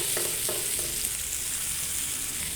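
Chanduva fish pieces sizzle in a frying pan, a close, steady bright hiss with a few light stirring taps early on.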